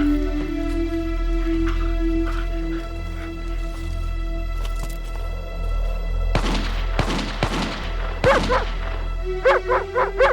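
A military dog barks in a series of sharp, loud barks in the second half, several in quick succession and then a rapid rhythmic run of barks at the end, over a steady low hum.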